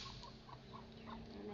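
A Rhode Island hen clucking softly in short, faint calls, a handful of them spaced across a quiet morning yard.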